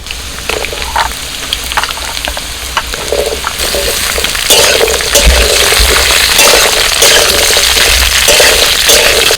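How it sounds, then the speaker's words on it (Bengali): Potatoes, carrots and drumsticks fry in hot oil in a pan, a steady crackling sizzle that grows louder and busier partway through, with no talking. "আলু গাজরটা একটু ভেজে নিয়ে এবার ডিমো ডাঁটাটা দিয়ে দিচ্ছি"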